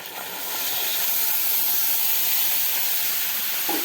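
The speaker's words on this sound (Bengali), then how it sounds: "এখন আমি যে দুধটা রেখেছিলাম সেটা দিয়ে দিচ্ছি" Milk poured into hot caramelized sugar for sweet curd, giving a loud, steady steamy hiss that swells within the first half second and holds throughout, with no talking.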